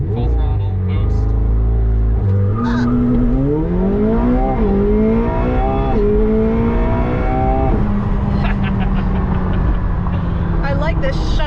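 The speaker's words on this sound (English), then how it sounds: "I like the shuddering it does right before it launches." A 2021 McLaren 720S shudders at the line, then launches at full throttle, its engine climbing sharply in pitch through the gears, loud and close inside the cabin while people talk.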